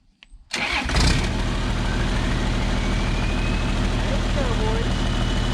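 A 1994 Isuzu cab-over truck that has sat for three years cranks briefly, then its engine catches and settles into a steady, loud, close diesel run with a continuous rumble.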